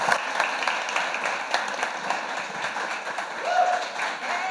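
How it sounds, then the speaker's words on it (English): A conference audience applauds to welcome the founders, a moderate wash of many hands clapping that holds steady throughout and swells slightly near the end. "let's welcome our founders everybody with a great round of applause"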